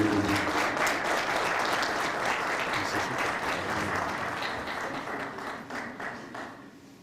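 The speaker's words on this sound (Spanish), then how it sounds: "recibámosle con un fuerte aplauso a nuestro pastor Marcelo Espejo" Strong sustained applause from a church congregation greets Pastor Marcelo Espejo at a Bible seminar in La Paz, a dense wash of clapping that holds steady for several seconds before slowly tapering off.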